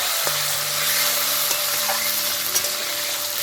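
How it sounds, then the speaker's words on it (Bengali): Cut potatoes fry in hot oil over tempered spices for a fish-head curry, a close, steady sizzle with a few sharp stirring scrapes in a brief burst. "এবার দিয়ে দেবো কেটে রাখা আলুগুলো খুব ভালোভাবে ভেজে নেব"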